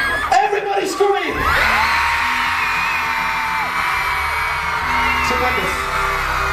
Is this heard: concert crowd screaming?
yes